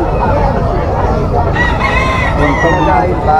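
Young rooster, a stag offered at a market, crowing loudly and close amid a busy background of other birds and faint voices.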